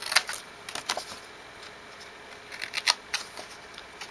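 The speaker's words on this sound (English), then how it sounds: "You're going to cut all the way there, then come here and cut your 2 little flaps." Scissors snipping small flaps into a paper sheet for a one-sheet backpack, several quick crisp cuts in short bursts separated by pauses, close and fairly quiet, with no talk.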